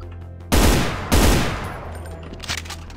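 Two loud, close pistol shots ring out in Brutal Doom under GZDoom, about half a second apart, each with a booming decay, followed by a faint smaller report.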